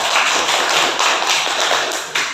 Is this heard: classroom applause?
yes